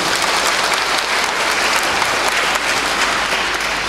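A congregation at an Easter Sunday Mass bursts into sustained, dense applause for the security staff, loud and continuous throughout with no talk over it.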